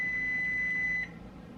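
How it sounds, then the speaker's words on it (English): A kitchen oven timer beeps steadily for biscuits baking in a home Southern kitchen, one sustained electronic tone ringing clearly for about a second before cutting off and leaving low room noise. "Oh, timer's up for the biscuits."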